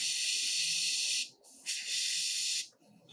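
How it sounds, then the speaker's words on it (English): An airbrush sprays thin paint at low pressure onto a hobby figure, a close, steady high hiss in two bursts with a short break between them, then a faint trailing puff. "We're going to spray a little bit with the airbrush,"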